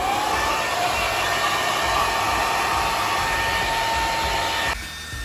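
A hair dryer blows on hair in a LIPPS salon in Omotesando during comma-bang styling. A loud, steady airflow roar runs close by throughout, then drops off slightly at the very end.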